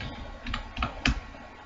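Keys clacking on a computer keyboard while a C function is typed, a few scattered close taps over a quiet background.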